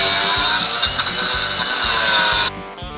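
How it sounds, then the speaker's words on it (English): A power tool cuts just inside a weld on metal, giving a loud, harsh, continuous grinding whine with a juddering low rumble, then it cuts out abruptly near the end. "I'm gonna cut just on the inside of this weld"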